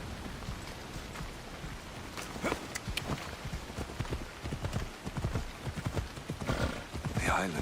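Horse hooves galloping under a rider in the video game Assassin's Creed Odyssey, a steady, close clip-clop rhythm that grows busier as the ride goes on, with a neigh and some ambient noise underneath.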